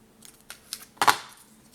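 Scissors snipping through paper while trimming a scrapbooking accordion folio, a few short close crisp cuts with one louder snip near the end, no talking.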